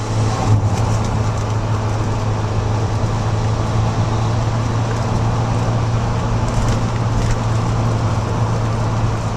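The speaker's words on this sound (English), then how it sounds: "I read somewhere that they say the engine sounds like a sewing machine, and it pretty much does." A Lotus Esprit Turbo drives along with a constant, loud, busy engine whir and road rumble under a steady low hum, heard from the cabin without a break.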